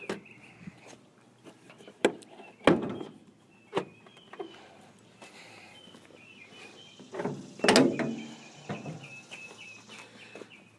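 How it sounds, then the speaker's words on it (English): Trunk of a 1973 Karmann Ghia convertible opened, with a sequence of close metallic clunks, latch clicks and thumps, two louder knocks among them, over a quiet background with a faint high tone and no speech. "what I'm gonna do is I'm gonna open up the trunk"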